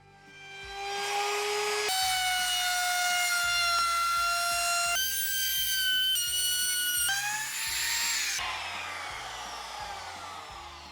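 Wood router with a concave bit rounding the edges of a wooden Montessori learning tower, a loud steady whine that changes pitch in several stages as it cuts, close by, with no voices.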